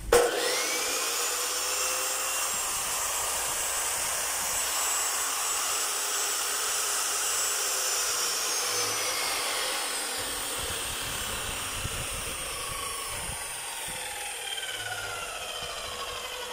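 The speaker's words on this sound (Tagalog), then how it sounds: "Ayan po, papaandarin ko." A DeWalt 14-inch D28700 chop saw runs steadily after being switched on, a loud continuous high motor whine and whir close by that holds throughout without talk.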